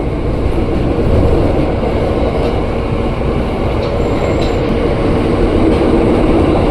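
A KRL commuter train rolls past near Jatinegara station on a multi-track stretch, loud and close, with heavy continuous wheel rumble and squealing steel throughout.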